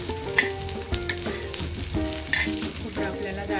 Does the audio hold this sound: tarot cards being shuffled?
no